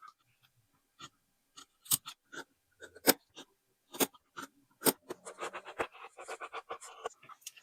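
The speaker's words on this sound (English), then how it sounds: "I like to use scissors to cut out the notches" Scissors snipping notches into fabric for a quilted pencil case, a string of sharp, separate crisp cuts that come quicker toward the end, quiet and close.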